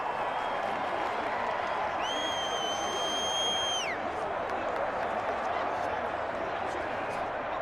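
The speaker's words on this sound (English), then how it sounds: "The crowd's not doing that O-line any favors." Stadium crowd noise from the Madden 21 football video game, a Broncos at Jets matchup, roars steadily as a dense, loud wash throughout, with a brief rising whistle-like tone in the middle.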